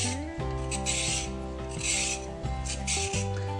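A carrot with both ends trimmed being scraped to remove its peel, a rasping, scratchy stroke repeated in quick bursts, close and clear over steady background music.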